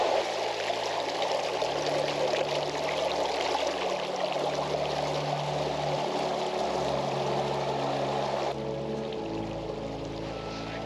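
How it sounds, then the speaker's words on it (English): A small roadside creek trickles and gurgles steadily as a water bottle is filled, with the flowing water close and continuous before the sound drops slightly near the end. "but I'm gonna fill my bottle up."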